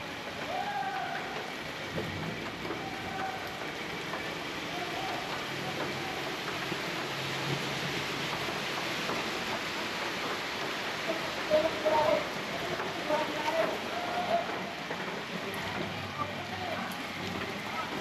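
Heavy typhoon rain pours down steadily on a street in Sampaloc, Manila, a dense continuous hiss with faint scattered patters and a few brief clicks partway through.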